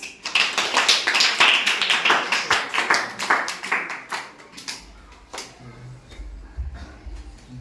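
A group claps for a correct answer at a Ramayana quiz, a dense burst of rhythmic hand claps that peaks early and thins out over about five seconds, followed by a low hum.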